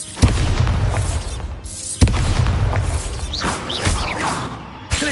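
The Bombarda spell in Hogwarts Legacy sets off loud, close blasts: three sharp booms, each followed by a rumbling, crackling decay.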